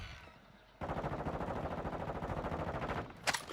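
Rapid automatic gunfire from the Call of Duty video game bursts in after a quiet moment, a dense rattling volley of shots that continues steadily with a sharp crack near the end.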